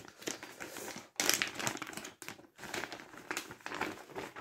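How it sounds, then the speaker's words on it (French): A Christmas cross-stitch embroidery kit is unpacked, with close, busy crinkling and rustling of plastic packaging in bursts separated by brief pauses. "Tac, on va déballer ça. Je sors tout."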